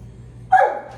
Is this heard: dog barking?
yes